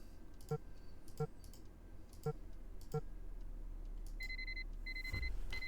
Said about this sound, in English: their alarm might go off in the middle of the day now